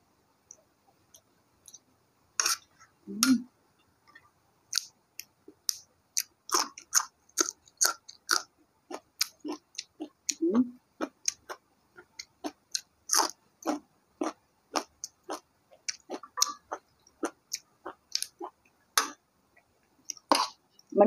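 Someone chews a crunchy spicy canned fish salad with raw long beans and cucumber, making dense, close crisp bites and crunches in an irregular quick rhythm that runs for about twenty seconds, with no talking.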